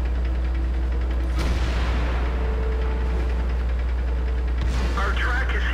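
Two heavy tank cannon blasts in World of Tanks, a few seconds apart, cracking over a constant low engine rumble.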